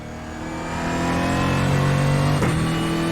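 A heavy Brazilian Stock Car in a racing video game revs up, its loud engine note swelling and climbing steadily, briefly dipping once and then rising again, with no voices.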